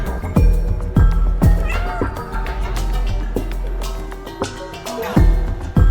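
A cat meows in the video game Stray, with a few sharp plucked or struck accents and steady game music or ambience underneath, at moderate loudness throughout.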